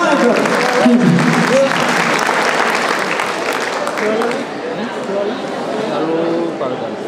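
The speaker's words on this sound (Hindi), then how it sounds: "जोरदार ताली, कमाल" Loud, sustained applause from the audience at an employee annual day celebration, with crowd noise and voices mixed in throughout.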